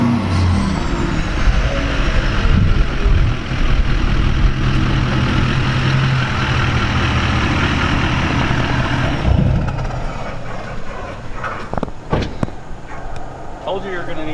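A tuned L5P Duramax diesel truck engine runs loud and close, a steady heavy rumble with broadband roar that eases near the end, where a few sharp clicks and knocks stand out.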